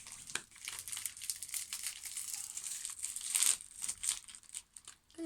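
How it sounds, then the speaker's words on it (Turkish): A bag of milk corn snack is torn open, crisp plastic crinkling and crackling in bursts for several seconds, loud and close, with no one speaking. "Süt mısırı açalım. Açıyorum."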